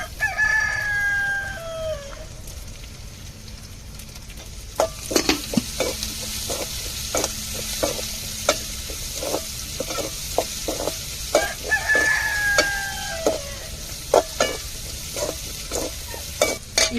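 Garlic and chili fry in a pan with a soft, constant sizzle, while a spoon scrapes and clanks against the pan in irregular taps; a rooster crows twice in the background.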